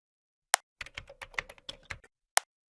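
Keys on a computer keyboard clatter close and crisp: one sharp tap, a quick burst of about a dozen keystrokes, then a final lone tap after a short pause.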